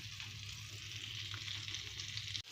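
Steady sizzling of ground beef cutlets frying in a hot pan, a continuous hiss with faint crackles, close by, ending in a brief knock.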